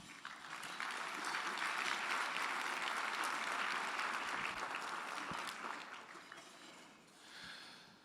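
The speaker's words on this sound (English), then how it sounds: "I want you to give yourselves a round of applause" A summit audience at a closing plenary breaks into sustained applause, a dense, even roar of many hands clapping that swells, holds, then fades away near the end, heard at a low level.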